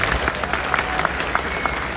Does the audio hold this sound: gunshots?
no